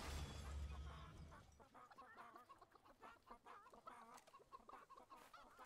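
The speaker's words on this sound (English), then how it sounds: "so these are actually hyper intelligent chickens" Chickens in the video game Fable III cluck and squawk in a busy, irregular chorus, close and fairly clear, after a brief low rumble at the start.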